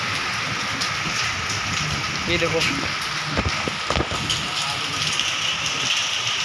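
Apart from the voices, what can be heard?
heavy rain falling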